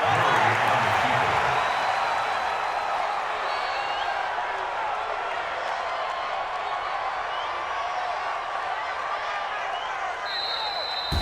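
A stadium crowd in the Madden NFL 20 football video game keeps up a loud, continuous roar throughout, with a commentator's voice over it.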